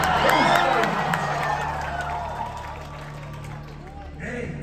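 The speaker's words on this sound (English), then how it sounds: "the crowd went wild throughout the entire trailer" A large crowd at The Game Awards cheers and whoops during a Witcher trailer reveal, loud at first and then easing off, with trailer voices and music running underneath.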